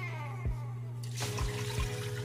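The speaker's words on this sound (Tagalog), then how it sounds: "maglagay po ako ng tubig" Water splashes and gurgles as it is poured into a pot of boiling beef, starting about halfway through over a low steady hum, close by.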